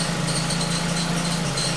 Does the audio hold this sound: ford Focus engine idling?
yes